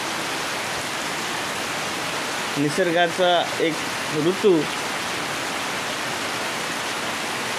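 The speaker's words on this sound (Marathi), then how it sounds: "मुसळधार पाऊस चालू आहे कालपासून" Heavy monsoon rain pours down steadily at Shrivardhan in Raigad district, a dense, even hiss that fills the whole scene, with someone speaking briefly midway over the downpour.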